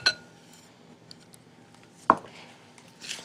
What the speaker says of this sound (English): I'm going to stir in 1 cup of granulated sugar